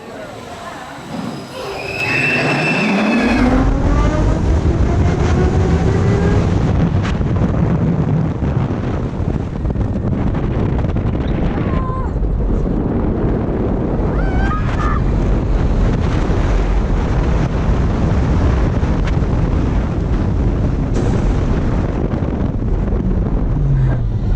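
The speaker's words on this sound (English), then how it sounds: "I got that front row ride on Red Force, and it was great" Front-row ride on the Red Force launch roller coaster at Ferrari Land, PortAventura: a sudden loud roar of wind rushing past the microphone that stays constant for the rest of the ride, with brief high whines and rumbles under it.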